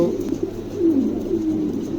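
Soft, low Pomeranian pigeon cooing repeats a few times close by, with a quiet background and no talking.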